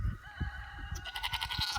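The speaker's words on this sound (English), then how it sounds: "the billy goat's tied up over here in this paddock" A billy goat tied up in a farm paddock bleats in several short, close calls over a steady background hum, with no talking.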